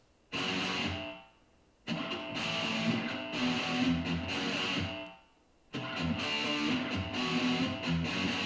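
A rock medley of electric guitar power chords with ghost choke notes, heard as three chugging strummed passages separated by short gaps, fairly close and played alone.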